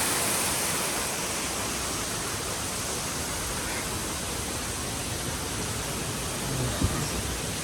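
Bomburu Ella waterfall, swollen after heavy rain, makes a steady, dense roar of falling water that fills the scene evenly from start to finish, with no other clear sounds.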